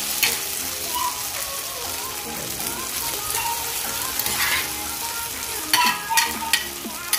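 Garlic fries in a hot pan while cooking a beefloaf omelette, giving a steady, dense sizzle throughout with a few brief stirring clatters near the end, up close and without talk.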